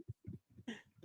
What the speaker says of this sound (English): Inhales and coughs.